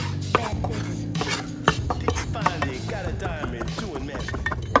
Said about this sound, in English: Slices. And dice it. Just keep chopping it.